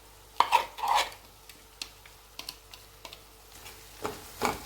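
Ground green peas being stirred into hot oil with browned onions in a pan, soft scraping stir strokes and light clinks in uneven bursts over a faint low sizzle, close and moderately loud, no talking.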